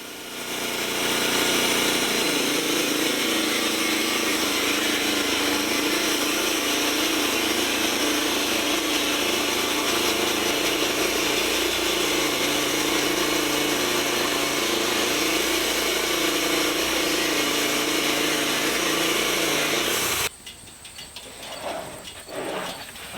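A power tool runs steadily for about twenty seconds, making the first defining dimensional cut along a 1-inch-thick board being milled, loud and continuous, then cuts off abruptly, leaving a few faint handling sounds.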